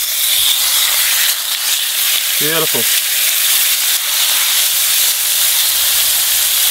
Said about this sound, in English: Sizzling hot, that's what we want when we sear our meat.